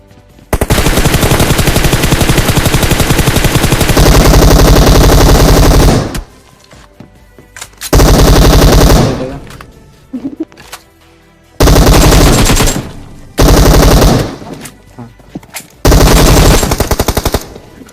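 Machine gun fire from the shooting game PUBG comes in long, loud automatic bursts, the first lasting several seconds, then shorter sustained volleys separated by brief pauses.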